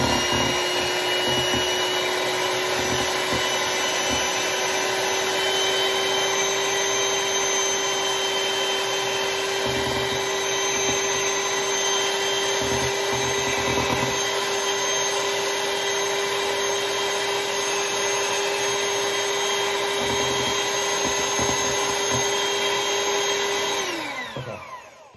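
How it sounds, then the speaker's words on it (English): An electric mixer whips coffee into TikTok-style whipped coffee, a steady loud motor whine that runs continuously near the listener before winding down at the end. "I'm going to go back to the mixer."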